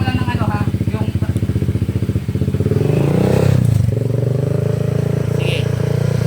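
A Honda PCX scooter with an aftermarket power pipe exhaust idles with a rapid pulsing putter, then revs up into a louder, sustained raspy drone, heard close with people talking over it.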